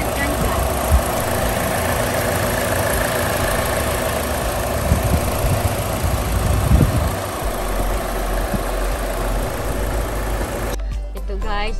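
Chevrolet Trax LS compact SUV with a 1.4 Ecotec turbo engine idling steadily up close, a loud even hum with someone speaking over it before the sound cuts off near the end.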